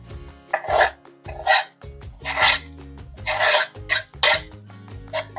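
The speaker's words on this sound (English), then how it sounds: "Remember, if you scrape anything using a knife, be sure you use the back end of it." The back of a knife scrapes spices across a cutting board in a series of close, loud rasping strokes, about eight in a steady rhythm, with no talking.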